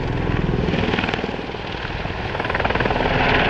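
A Royal Navy Lynx HAS3 anti-submarine helicopter of 815 Squadron flying at the East Fortune Airshow, with loud, close, continuous rotor chop in a fast, even pulse over a heavy engine roar.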